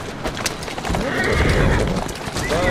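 Horses in Assassin's Creed Syndicate neigh and whinny over a steady clatter of hooves and carriage noise, loud and continuous, with a rising whinny near the end.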